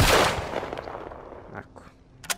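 A sniper rifle fires in the Walking Dead Saints and Sinners VR game: one loud booming shot opens, decaying into a long rumble, followed by softer clicks and a sharp sound near the end.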